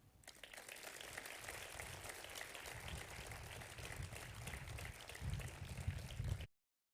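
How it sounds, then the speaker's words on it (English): Audience applause at a business school commencement ceremony, a dense, steady wash of clapping that holds for about six seconds, swells slightly near the end and then cuts off abruptly. "Please give a round of applause to people who cared,"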